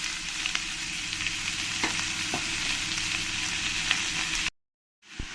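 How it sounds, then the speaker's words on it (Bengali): Onions hit hot oil with cumin in a pan for a tilapia ghuna, giving a steady close sizzle with scattered stirring clicks, then a brief silence and a single knock. "পেঁয়াজটা দিয়ে আমি একটু ভালো করে ভেজে নেব।"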